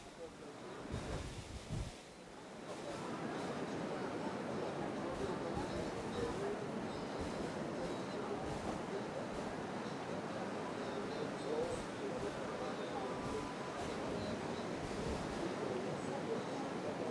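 Ocean surf at a Tahiti surfing contest final, a continuous broad wash of waves and wind, steady and moderately distant, with a brief lull early on.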